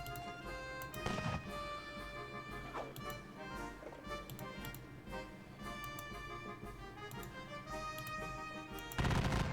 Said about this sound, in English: you will shoot at them